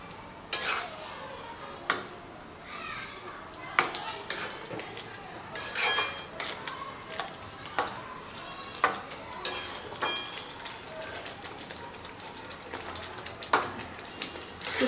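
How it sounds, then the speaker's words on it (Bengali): A spoon scrapes and clinks against a pan as grated paneer is stirred into masala for paneer bhurji, giving repeated sharp metallic taps at an irregular rhythm over a faint background sizzle. "পনিরটা দিয়ে সব কিছুর সাথে খুব ভালো করে মিশিয়ে দেব।"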